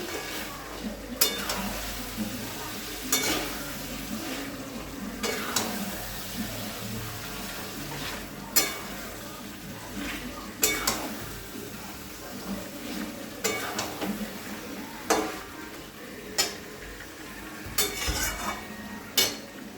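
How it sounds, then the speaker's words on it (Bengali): Chicken being sautéed with poppy seed paste in a pan, a low steady frying sizzle with repeated sharp clinks and scrapes of a spoon stirring against the metal, close and continuous. "আবার দু মিনিট ধরে আমি পোস্ত দিয়ে এটাকে কষিয়ে নেবো"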